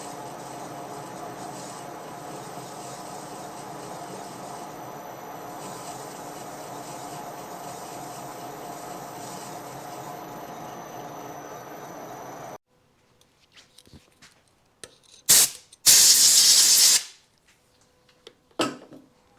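A lathe makes a final light smoothing cut on a Yamaha GT80 crankshaft, a steady grinding whir for about twelve seconds, then sharp bursts of loud noise and clatter after it stops.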